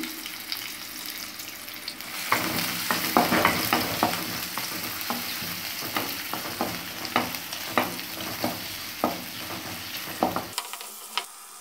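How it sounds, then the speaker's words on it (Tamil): Sliced onion and garlic sauté in hot oil for a pepper chicken dry roast, a steady close sizzle broken by regular sharp scrapes and clacks of a spoon stirring the pan, with no talking. "எண்ணெய் காஞ்சதும் அதுல நீளமா கட் பண்ணி வச்சிருக்க வெங்காயம் கூடவே பூண்டு சேர்த்து வதக்கிக்கலாம்."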